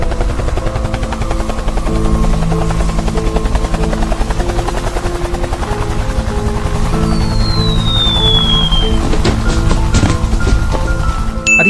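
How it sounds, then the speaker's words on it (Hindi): Loud, steady helicopter rotor chopping sound effect from a cartoon, with a close, continuous droning thump, a brief rising whistle near the end and a few sharp clicks. "ग्रैंडपा के साथ साथ तो हेलीकॉप्टर से जेसन भी यहाँ आ गया।"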